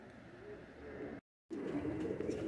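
Racing pigeons, whites and dark birds at a pigeon show, coo softly under a low continuous rumble of wind and handling noise, with a short break of silence partway through.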